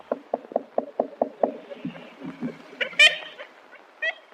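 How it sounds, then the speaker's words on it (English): Ivory-billed woodpecker knocking, a run of about eight evenly spaced, hollow wooden raps followed by a few faster irregular knocks, with brief higher bird calls near the end, in an open natural setting. "This is the sound of the ivory-billed woodpecker, a bird that was last seen for certain before 1950."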